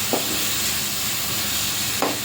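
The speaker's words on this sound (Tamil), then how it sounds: "இப்போ இஞ்சி பூண்டு விழுது சேர்த்து அதோட பச்சை வாசனை போகிற வரையும் நல்லா வதக்கி விட்டுக்கலாம்." Ginger garlic paste sautéing in hot oil for Dindigul thalappakatti biryani, a steady close hiss with two brief stirring scrapes near the start and end.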